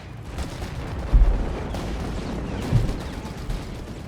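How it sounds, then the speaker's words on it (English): Howitzer heavy artillery fire in the real-time strategy game Company of Heroes 3, with two deep, heavy booms about a second and a half apart, set against a steady rumbling battlefield din. "they're being hit by heavy artillery fire here from the howitzer"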